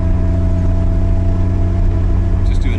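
Nissan 200sx engine running on dual coils with a stumbly, uneven note, a steady loud drone with strong low harmonics, heard from inside the car with a brief voice near the end.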